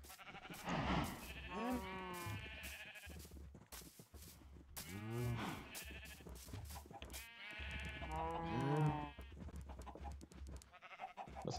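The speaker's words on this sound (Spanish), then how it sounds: "No sé si pueden escuchar las vacas y las ovejas." Sheep and cows in the Minecraft video game, with repeated bleats and moos standing clearly apart, one every few seconds over a low steady game background.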